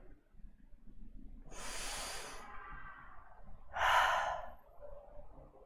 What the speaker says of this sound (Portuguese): Respira, para um pouquinho. Inspira e expira.